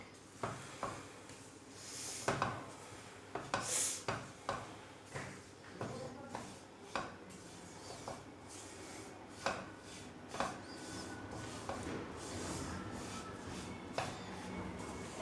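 A spoon scrapes and stirs besan roasting in ghee in a pan over a low flame, giving soft, irregular rubbing strokes and occasional sharper knocks against the pan, quiet and close, with no talk.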